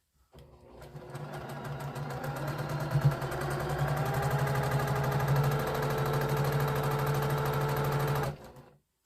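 A sewing machine stitches jelly roll fabric strips together in one steady, continuous run of about eight seconds, with a fast mechanical whir and rhythmic needle clatter heard up close and alone.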